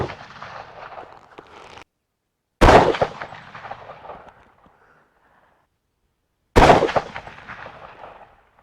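Rifle shots fired at a target on a range, two sharp loud cracks several seconds apart with echoing tails, heard alone without talking.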